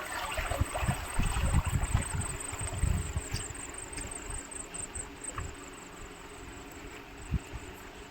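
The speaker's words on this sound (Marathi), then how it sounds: "झऱ्याचा किती आवाज चांगला छान प्रकारे येतो" A stream of water rushes steadily beside a well filled to the brim in open farmland, a constant broadband flow heard alone with a few soft knocks.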